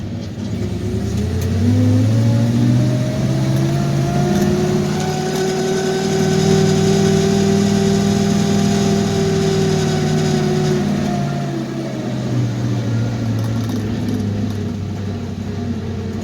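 A 1981 GMC Squarebody dump truck engine strains loud and steady while pulling uphill, its drone rising and falling in pitch as it works under load, with no talking.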